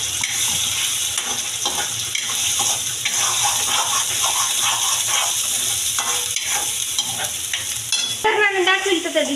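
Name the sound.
chicken frying with masala, being stirred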